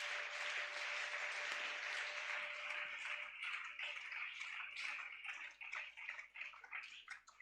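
A church congregation at a wedding service applauding, a dense sustained clapping that thins into scattered claps toward the end.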